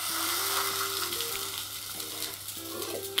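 Eggs fry in hot oil in a pan on low heat for an Indian breakfast dish, giving a steady close sizzle with faint clicks and no talking.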